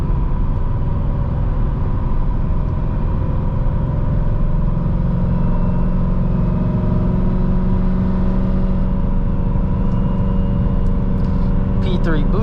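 A procharged BMW M3 drives along with a steady, loud engine drone filling the cabin, holding a fairly even pitch throughout, with faint ticking near the end.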